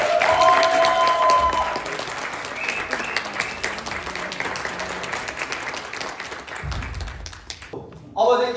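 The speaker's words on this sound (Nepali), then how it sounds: "ल फेरि ताली।" Wedding guests break into loud, dense applause, a crowd of hands clapping continuously before fading and stopping near the end, when a voice briefly speaks.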